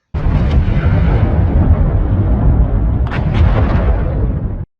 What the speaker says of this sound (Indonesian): terlihat kepulan asap bercampur tanah bersamaan dengan ledakan di area fasilitas nuklir